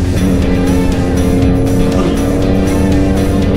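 Yamaha MT-07 motorcycle engine droning loud and steady up close while overtaking on a road ride, with a continuous roar that holds level throughout.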